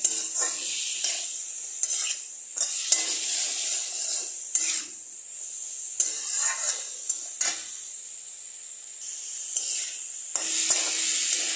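Close, steady scraping and stirring of spice paste with garlic frying in a pan for a fish head curry, with a soft sizzle under repeated rhythmic rubbing strokes and no talking.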